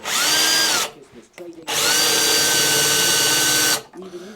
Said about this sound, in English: Bloody drill.